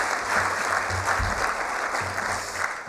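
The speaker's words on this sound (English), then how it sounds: "So a big round of applause as well for our judges this evening." An audience at an evening engineering awards ceremony applauds the judges, a loud dense wash of clapping from a full room, sustained evenly throughout and beginning to fade at the end.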